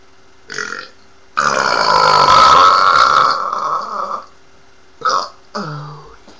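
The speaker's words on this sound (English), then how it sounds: "It makes you burp even louder" A loud, drawn-out burp after drinking Coke Zero rumbles close to the mic for nearly three seconds, preceded by a short belch and followed by two brief ones, with silence between.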